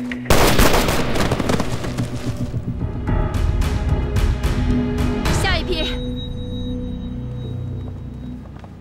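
Gunfire crackles in a Chinese war drama set during resistance against Japanese forces, a burst of rapid loud shots and booms that thins into scattered cracks and a fading ringing tail, with no talk over it.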